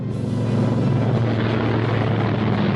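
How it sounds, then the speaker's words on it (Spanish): A World War II era F-47N Thunderbolt fighter plane roars past at low altitude during an attack on a city, a loud, steady propeller-engine drone that fills the whole short stretch without pause. "Nunca habían visto nada como un F-47N Thunderbolt atacar su ciudad volando a baja altura"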